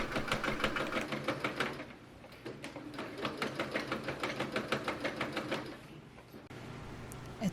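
A sewing machine stitches down a summer dress hem nearby, its rapid rhythmic needle chatter running steadily, briefly slowing and pausing before resuming, with no talk.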